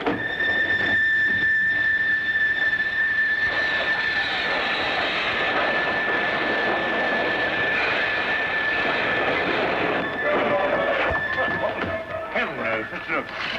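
Train running on the rails, a continuous rumbling roll with a high steady squeal over it throughout, while a voice speaks over the noise.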